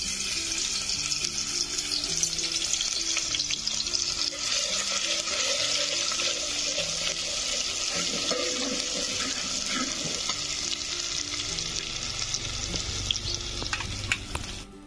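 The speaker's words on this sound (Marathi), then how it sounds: "तर आपलं तेल तपलं आहे. त्याच्यात टाकून घेते मी लसण." Garlic drops into hot oil and fries loudly in a pan over a wood-fired stove, a dense, bright sizzle throughout with bubbling crackles and a low rhythmic background tone, tapering off at the end.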